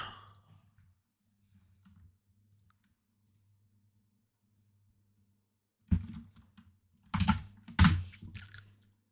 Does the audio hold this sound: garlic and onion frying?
no